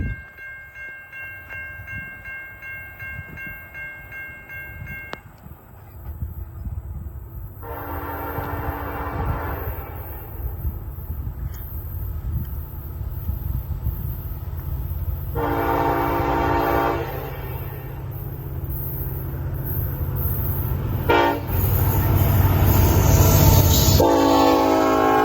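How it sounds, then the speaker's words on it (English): Eastbound Norfolk Southern manifest freight train at a road crossing in Vermillion, Ohio, approaching with a steady rumble that grows louder as the horn sounds in several long blasts, with rail noise building as the train passes close by. "We have a train coming"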